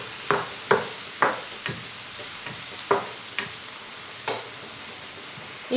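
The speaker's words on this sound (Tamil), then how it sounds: "இப்போ தக்காளியை ஒரு 2 நிமிஷம் மீடியம் ஹீட்லேயே வச்சு வதக்கிக்கோங்க" Tomatoes and green chilies sauté in a pan on medium heat for Tamil egg gravy, soft steady sizzle punctuated by about eight distinct spoon scrapes and stirs at a fairly even pace, fairly quiet and with no talking.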